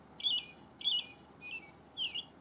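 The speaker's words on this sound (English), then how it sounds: "The bird says." Electronic bird chirps from a Fisher-Price See 'N Say farm toy, four short bright tweeting bursts in a steady rhythm over a low background hum.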